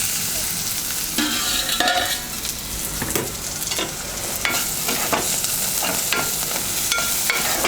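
Onions frying in a pan for a drumstick masala curry, a steady sizzle with frequent stirring scrapes, close and continuous with no talk.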